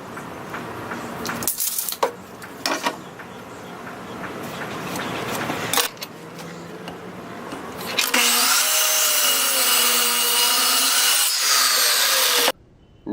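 A handsaw cutting through a 2x4 wooden board, with scattered scraping and knocking at first, then a dense, loud stretch of rhythmic rasping strokes near the end before stopping suddenly.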